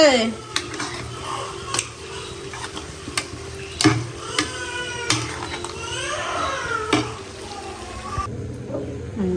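Meat is stirred and fried bhuna-style in a pot, with repeated scraping and clanking of a spoon against metal over a soft sizzle and faint voices in the background.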